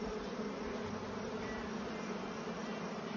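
Honeybees buzz steadily around beehives, a dense, continuous hum of many insects close by with no voices.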